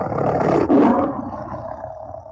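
Lion roar sound effect in a radio ad for a door company, a single loud, rough, swelling roar that peaks early and then trails off slowly.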